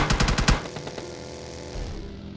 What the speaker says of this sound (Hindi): तो हमें गोलियां पड़ती है,